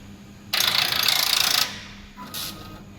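A collar knitting machine is reset with a loud mechanical ratcheting sweep lasting about a second, followed by a shorter, fainter second rasp, close and without talk.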